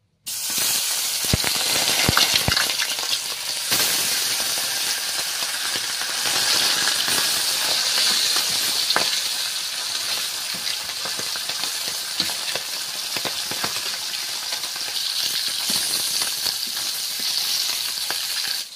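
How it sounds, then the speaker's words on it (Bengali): A tilapia fries in hot oil in a pan, giving a loud, dense, continuous sizzle and hiss close by, with a few sharp spatters and taps early on. "তেলটা গরম হয়ে গেলে মাছটা আস্তে আস্তে ভাজতে শুরু করবো"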